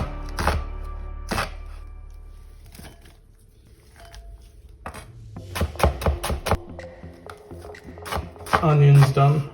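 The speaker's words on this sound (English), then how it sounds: "We've got to thinly slice the onions." A knife thinly slicing onions on a cutting board, sharp irregular thunks and taps in bursts close by, with a pause midway and a voice speaking near the end.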